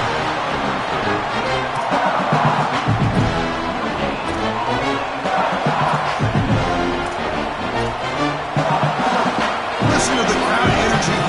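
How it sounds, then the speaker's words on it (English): Loud stadium crowd at a Texas college football game, a dense roar of cheering and babble holding steady throughout with a commentator talking over it. "Listen to the crowd energy here in the early going"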